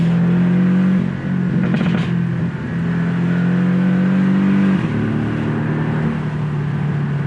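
A Porsche 718 Boxster S engine revs during a downshift on a drive through tight corners. The loud, close engine drone holds steady, then blips and changes pitch around the shift.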